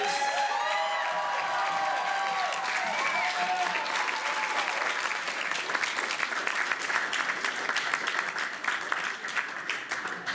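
Sustained crowd clapping with scattered cheers and whistles for seven graduating seniors at a community event, loud and continuous, the whistles most noticeable at the start.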